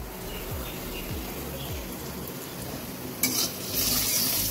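Onions frying and starting to burn in a pan for Bengali rice fry, a steady sizzle with stirring scrapes, rising brighter and harsher near the end.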